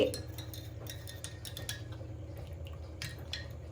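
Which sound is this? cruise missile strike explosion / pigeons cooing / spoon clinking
spoon clinking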